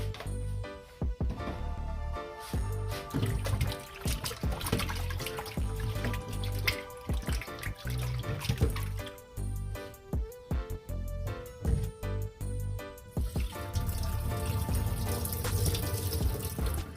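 Chicken gizzards are washed with vinegar under a running kitchen tap, water splashing and trickling continuously into a sink with intermittent handling sounds and no talking.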